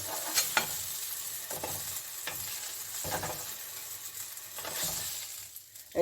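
Eggplant slices fry in hot oil in a wok for a Bengali doi begun dish, giving a steady close sizzle with a few sharp clinks of utensil stirring and scraping against the pan.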